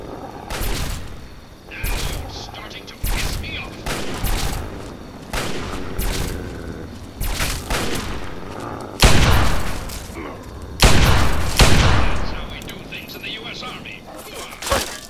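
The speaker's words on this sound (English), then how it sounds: "Something is firing a lot of bullets at me." Repeated bursts of gunfire in Fallout 3, sharp cracks coming in clusters across the clip, some volleys louder and closer, with someone talking over much of it.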